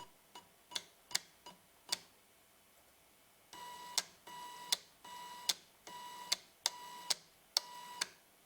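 A printer motor fitted with a handmade rotary encoder, its speed cut by pulse width modulation, gives a series of sharp ticks and clicks. A steady buzzing whine stops and starts between them, all faint and close.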